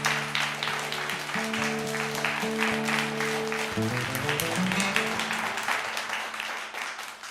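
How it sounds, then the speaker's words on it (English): Applause from a small audience runs continuously for several seconds during a live looping music stream, while sustained acoustic guitar tones from a loop station ring underneath and shift midway, then fade. "Thank you for the claps, folks."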